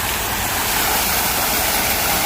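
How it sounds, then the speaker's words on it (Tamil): A fountain at the Lotus Tower gushing forcefully, a loud, dense, continuous rush of splashing water that holds steady throughout, without speech. "தண்ணி வந்து எப்படி பாயுதண்டு பாருங்க, இன்னும் போஸாக வந்து பாயுதண்டு பாருங்க"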